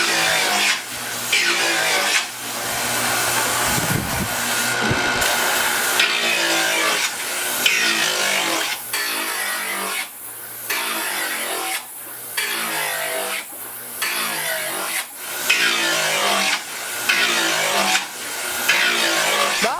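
A press knife is sharpened by hand, the stroke giving repeated scraping and rubbing passes in a steady rhythm that runs close and continuous throughout.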